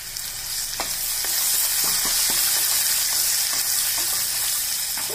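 Curry leaves hit hot oil in a pan for a prawn Chettinad gravy, with garlic, ginger and fennel already frying, giving a loud, continuous close sizzle with scattered crackles and pops and occasional stirring clicks.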